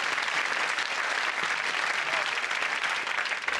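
A television comedy quiz show's studio audience applauds in a steady, even roar of many hands, sustained and fairly close, with no talking on top.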